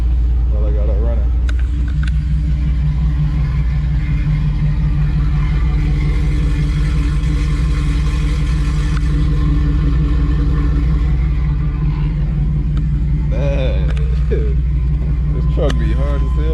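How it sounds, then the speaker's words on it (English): A 1978 Malibu engine idles with a deep, steady exhaust rumble close by, rising in a few revs, while a voice talks intermittently over it. "Let's get a quick exhaust clip while I got it running."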